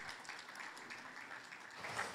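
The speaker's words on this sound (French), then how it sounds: "Je vous demande d'applaudir chaleureusement Zied Giga Waliskar." Warm applause for a guest at a business conference, a soft, distant wash of clapping that stays steady and quiet throughout.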